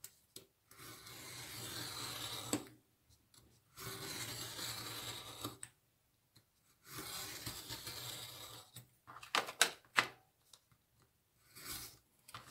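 A box cutter slices through paper craft material during a Father's Day kids' craft, giving repeated rasping scrapes in bursts separated by short pauses, close and fairly quiet, ending with a few sharper clicks.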